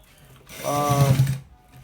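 A sewing machine stitches fabric for a neck design, a short, close burst of mechanical whirring and rattling that rises and stops within about a second.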